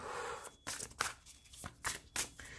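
Tarot cards shuffled by hand in quick riffling bursts, about five sharp rustling flurries separated by short pauses, close and clear with no talking.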